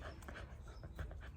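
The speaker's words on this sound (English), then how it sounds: "what he's barking at, he's going nuts now because there are sheep and chickens next door" A dog in a garden makes excited, rapid panting and whimpering noises, agitated at sheep and chickens next door, close and continuous with no talking.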